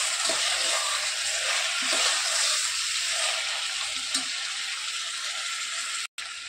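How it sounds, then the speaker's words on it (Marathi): Mutton pieces frying in a pan with oil, giving a steady, loud broadband sizzle that carries through the whole stretch with small stirring clicks, then cuts off briefly near the end. "मटण आपल्याला 5-6 मिनिटं व्यवस्थित फ्राय होऊ द्यायचे."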